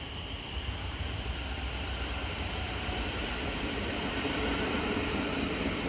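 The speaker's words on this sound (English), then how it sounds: "to arrive in now will be the 10:53 Thameslink service from Sevenoaks to London Blackfriars" A Thameslink Class 700 electric train pulls into Bromley South station, producing a steady, broad rumble and hiss of wheels on rail at moderate distance, with no voices.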